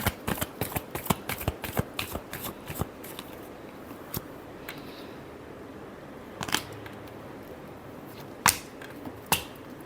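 Tarot cards being shuffled by hand, a quick run of crisp riffling clicks and flutters in the first few seconds, then scattered single card snaps and taps against a faint background hiss.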